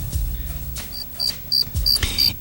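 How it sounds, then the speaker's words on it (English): Crickets chirp in short, high, repeated bursts, with a few low thumps between them. "I hear crickets already."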